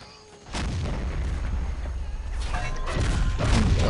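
Anti-air cannon firing in the Men of War: Assault Squad video game, a dense rumbling barrage of booms and blasts that swells after a quiet start and stays loud, with repeated sharp reports layered over a continuous low roar.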